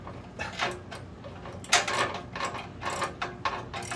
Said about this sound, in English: now I'm going to use my tool there to try to remove this